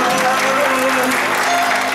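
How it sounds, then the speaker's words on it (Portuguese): Guests applaud the honoree at a family birthday celebration, steady clapping over a short stretch mixed with crowd noise and faint voices. "Uma salva de palmas para a nossa homenageada."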